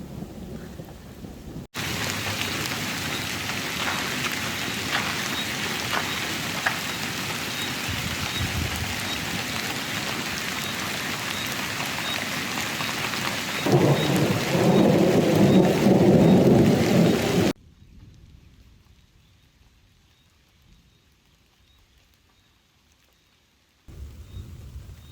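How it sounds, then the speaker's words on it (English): Heavy rain pours loudly on a tent at a campsite, with rumbling thunder swelling near the middle before the downpour cuts off into quiet. "here comes the rain. The good thing is that I managed to set it up before the rain started really heavy. As you can hear the thunder."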